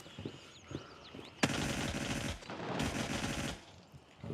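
Automatic gunfire in the video game Gray Zone Warfare starts with faint distant pops, then a loud burst erupts and sustained rapid fire rattles on in two long volleys.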